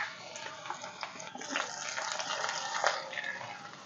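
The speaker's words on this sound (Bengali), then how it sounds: "এখন টুকরো করে কেটে রাখা বেগুন আমি ভেজে নেব" Eggplant pieces frying in hot mustard oil in a karai over a stove, giving a steady broadband sizzle with occasional louder spits and crackles, close and alone.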